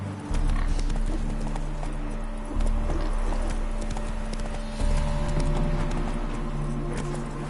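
A horse gallops in The Witcher 3: Wild Hunt, a steady, continuous drum of hoofbeats over a low game music bed, with almost no talking.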